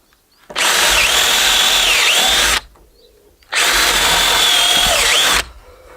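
A power drill pre-drills into a wooden roof cross member during a barn renovation in two loud, close bursts of about two seconds each, whining as it bites into the timber, separated by a short quiet gap.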